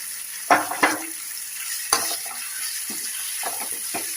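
Raw okra with fenugreek seeds frying in a pan, a few sharp spatula scrapes and clacks over a steady background sizzle, close up and unaccompanied by speech.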